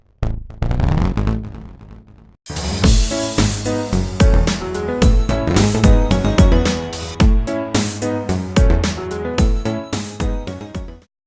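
A bright synthesized melody, raised two octaves from the original, of rapid, punchy notes plays loudly over a driving beat, after a brief quieter intro of repeated tones.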